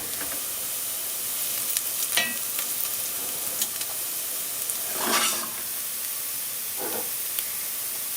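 Fresh mint and parsley fry in a pan for a squash stew, giving a steady close sizzle and hiss. Occasional stirring scrapes rise above it, and no one speaks.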